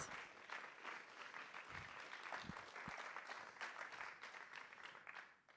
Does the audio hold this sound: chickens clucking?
no